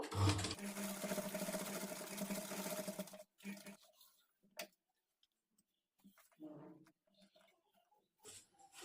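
On a princess-cut padded blouse, a sewing machine runs one steady, whirring stretch of stitching for about three seconds, then stops, leaving faint clicks and light handling noises.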